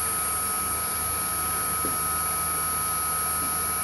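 A CNC spindle runs on a variable frequency drive at its minimum setting of 5,000 RPM, giving off a steady, unbroken electric hum with a sustained high tone that stays constant throughout, with no talking.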